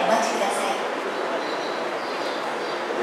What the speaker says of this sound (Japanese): 電車が到着いたします。